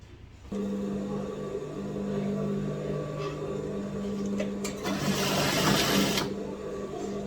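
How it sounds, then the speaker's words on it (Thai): A sewing machine stitches two garment pieces together with a steady, close mechanical whir that runs continuously and grows louder and busier for a stretch near the end before easing back. "เรา จะเอาชิ้นนี้ กับชิ้นนี้ ไปเย็บให้เขาติดกันก่อนนะครับสองชิ้น"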